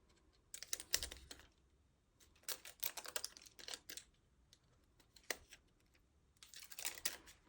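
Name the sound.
die-cut paper flowers peeled out of the die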